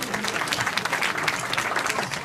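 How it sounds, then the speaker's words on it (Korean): Audience applause after a talk, a steady wash of many hands clapping, fairly close and evenly sustained with no voices over it. "박수 한번 주세요."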